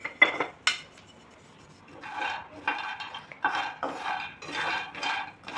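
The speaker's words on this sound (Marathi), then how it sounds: "हे शेंगदाणे आपल्याला एकदम मीडियम गॅसवरती भाजून घ्यायचे आहेत।" Peanuts dry-roasting in a pan over medium gas, stirred with a utensil: a series of rattling, scraping sweeps and a couple of sharp clinks at the start, coming in uneven bursts with quiet gaps between.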